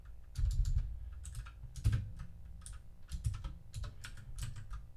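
Code being typed on a computer keyboard, steady bursts of close, crisp key clicks in quick irregular runs with brief pauses, no talking over it.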